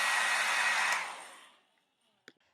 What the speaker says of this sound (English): and a blow dryer.